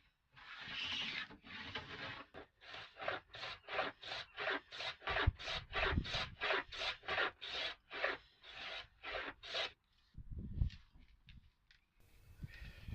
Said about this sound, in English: I chamfered the corners with my chisel.